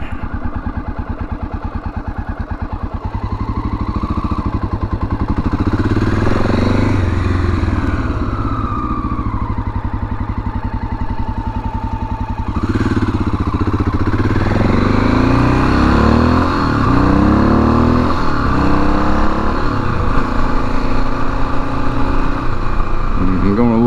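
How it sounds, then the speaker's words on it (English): A 1987 Honda XL600R dirt bike is ridden along a town street with a steady, loud single-cylinder engine drone that rises and falls as it revs and shifts. Wind buffets the microphone throughout. "People like to ride their dirt bikes in the street."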